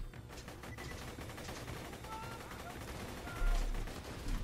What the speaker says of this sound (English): let's take the spinning gun and try it out. Try it out against this scavenger